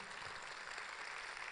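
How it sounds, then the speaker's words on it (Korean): Lecture audience at Kangwon National University's Baengnyeong Art Center in Chuncheon applauds, a steady, dense wash of clapping filling the whole moment at an even, fairly distant level. "박수 한번 치세요"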